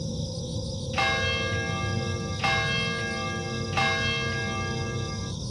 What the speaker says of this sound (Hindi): घंटी बजी है।